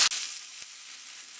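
A cake flipped over with a ladle into hot oil in a covered pan gives a sharp clatter, then a steady close sizzle and a second faint knock, with no talking.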